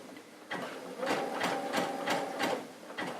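A sewing machine runs a zigzag stitch while topstitching a patch pocket, giving a close, rhythmic burst of roughly six to seven quick mechanical clacks.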